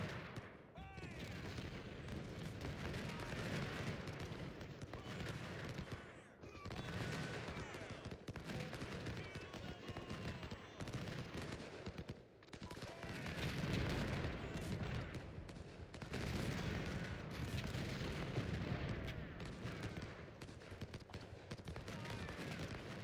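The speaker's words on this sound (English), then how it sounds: "That's why I'm bringing up the cannons now." Cannon and musket fire in the Civil War strategy game Ultimate General: Civil War, a dense, continuous battle din of booming shots and crackling volleys that rises and dips over time.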